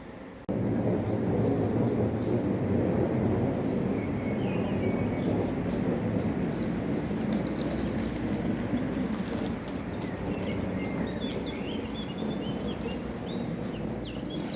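A train pulls into a station in Exeter with a steady, loud rumble of wheels and mechanism that holds for the whole stretch, with faint metallic squeals and clanks high above, and no one talking.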